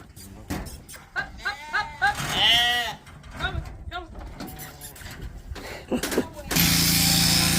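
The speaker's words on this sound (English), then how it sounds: "Sheep on the way up now." Sheep being brought up for shearing bleat several times at close range, wavering calls rising over clipper noise and people chatting, ending in a burst of loud, steady machine hiss.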